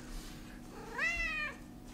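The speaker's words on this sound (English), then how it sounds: "but she does have cool cats." A single cat meows once, clear and fairly close, rising then falling over about half a second, over a steady low hum in a quiet indoor room.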